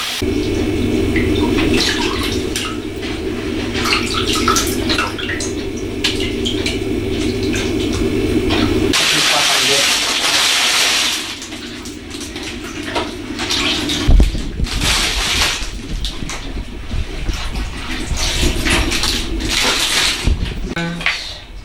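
Water pours steadily into a bowl of beans being washed for akara, a continuous rushing splash that shifts partway through as the flow changes, with some handling noise and no talk.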